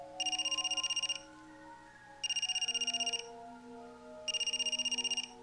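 A phone rings in the School Days video game: three bursts of a bright electronic ringtone trill, evenly spaced, each about a second long, over quiet background game music.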